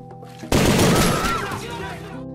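A loud, sudden burst of gunfire erupts as a dense volley of shots that rings out and slowly decays, set in a dramatized account of a Brazilian police squad raid on gangsters.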